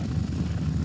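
Rescue helicopter hovering about 15 metres above a sailboat at sea in wind during a Corsican firefighters' operation, a steady loud low rotor drone with no break.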